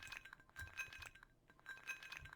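In the Minecraft Thaumcraft mod, a creature makes repeated light glassy clinks, bright and close, arriving in small irregular clusters over faint background noise.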